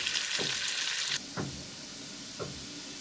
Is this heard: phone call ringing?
no